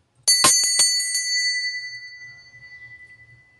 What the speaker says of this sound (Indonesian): lonceng berbunyi.